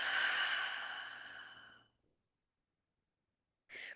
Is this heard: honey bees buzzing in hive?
no